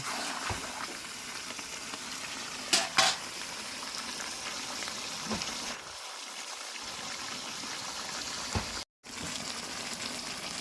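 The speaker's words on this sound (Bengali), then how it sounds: "আমি এইভাবে এখন নেড়ে নেব এইভাবে রান্নাটা করে নেব" Chicken curry with ground spice paste bubbles and sizzles in a pan as it is stirred, a steady close simmering hiss with occasional scraping clicks and a brief dropout.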